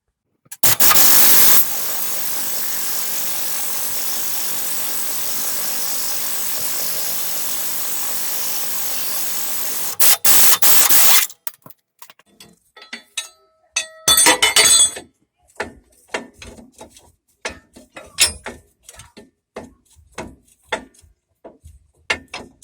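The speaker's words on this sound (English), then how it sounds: "So those 4 bolts have to be loosened." A loud, steady power-tool whir runs for about nine seconds while leaf spring bolts on a Chevy Express 1500 van are loosened. It cuts off and is followed by scattered metallic clinks and tool clatter.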